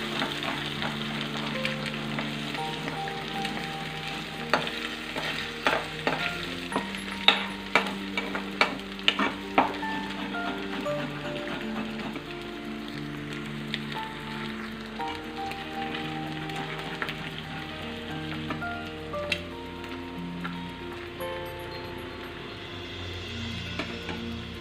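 Three eggs fry in a pan for egg burji, giving a continuous soft sizzle with frequent clicks and scrapes of a spatula stirring them, close and moderate in volume. Background music plays throughout, with no talking.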